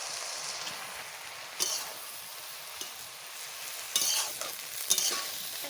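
Chicken fries in a pan with chili added, giving a steady close sizzle with a few sharp stirring scrapes and clatters spread through it, and no one speaking.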